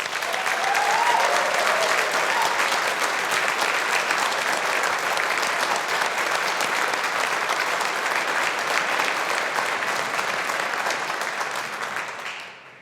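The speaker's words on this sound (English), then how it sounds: "let's give the class of 2021 a big collective round of applause" A large graduation audience at the University of Strathclyde gives the class of 2021 a long, sustained round of applause, dense and even throughout before fading out at the end.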